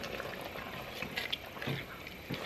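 Orzo simmering in a cream sauce made with beef broth, Worcestershire sauce and heavy cream, giving a soft, steady bubbling with a few slightly louder pops, close and quiet, with no talking.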